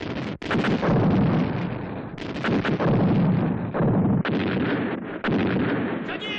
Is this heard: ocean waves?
no